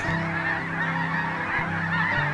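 A large flock of snow geese, with some Ross's geese mixed in, honks continuously, a dense overlapping chorus of calls at steady volume, filling the air.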